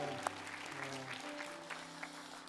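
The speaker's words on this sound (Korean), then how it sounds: "큰 박수로 한번 축복할까요?" A congregation at a church young adults' worship service claps to celebrate a couple's wedding announcement, a soft, distant patter of applause over sustained background tones.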